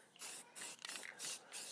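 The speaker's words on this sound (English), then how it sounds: "spray this real good" Short hissing bursts of spray paint coat an HPI Baja 5B chassis black, about four close, even pulses separated by brief gaps.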